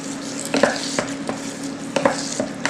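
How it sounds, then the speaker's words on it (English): A spoon stirs meat sauce in a saucepan, with soft scrapes and knocks against the pan over a gentle sizzle, close and fairly quiet. "So now we're going to mix all this up in this saucepan."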